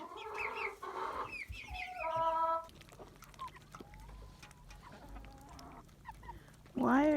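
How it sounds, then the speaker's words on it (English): Chickens cluck and squawk loudly at close range while pecking at boots, with bursts of clucking separated by brief quieter gaps and a final loud squawk. "Why are you pecking my boots, Reuben?"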